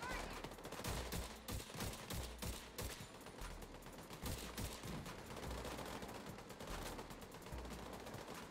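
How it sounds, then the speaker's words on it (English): Sustained automatic gunfire in The Division 2 during a mission fight, dense rapid bursts and overlapping shots crackling nonstop, loud and close throughout with faint voices underneath. "A lot of bullets coming at me, man."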